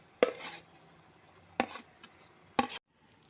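Vegetables (sautéed capsicum and tomato) tipped into a pan of paneer for yakhni paneer, three short sizzling, scraping bursts spaced about a second apart, close and fairly quiet.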